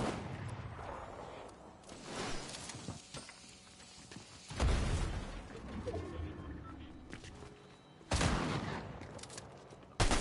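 Gunfire in the video game Fortnite, with bursts of rapid shots and several loud sharp blasts spread across the stretch, near and punchy over quieter game sounds.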